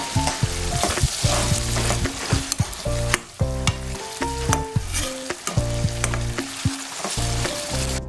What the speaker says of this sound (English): I have to stir fry all together for some time before adding in the snails.